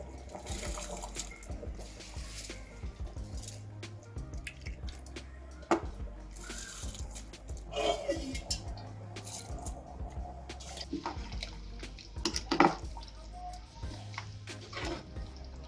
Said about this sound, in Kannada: ನೋಡಿ ಅಲ್ಲಿ ನೀರು ಕುದಿ ಬರ್ತಿದೆ, ಅಕ್ಕಿನ ಸೇರಿಸ್ಕೊಳ್ಳಿ